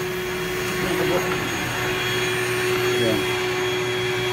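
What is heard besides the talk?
vacuum cleaner used to suck up wasps running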